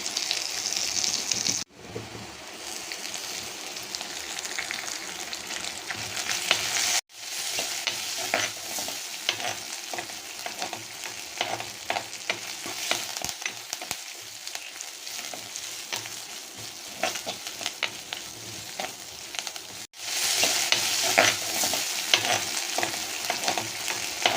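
Ginger strips sautéing in a pan for a Tamil-style tuna (choorai) fish curry, a steady crackling sizzle with stirring scrapes throughout, loud and close, with two brief pauses.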